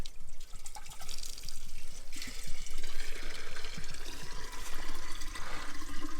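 Water pours steadily from a tap into a watering can outdoors on a Portuguese homestead, a continuous close splashing and gurgling that shifts in tone as the can fills, with no voices.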